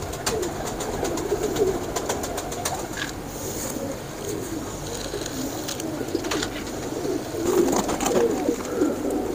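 A royal teddy pigeon coos close by in repeated soft, throaty phrases, with a few sharp clicks and a brief flutter mixed in.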